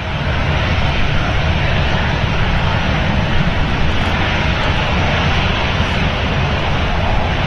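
Boeing 787 Dreamliner jet engines spooling up at Manchester Airport, a loud continuous broadband roar that holds steady and close throughout, with no voices.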